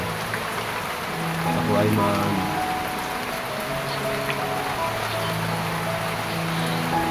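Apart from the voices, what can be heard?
rain falling during a flood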